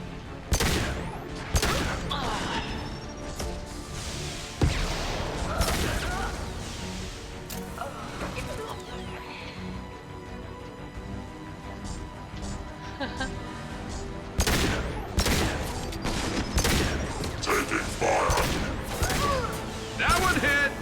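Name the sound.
gunfire in Mass Effect 2 video game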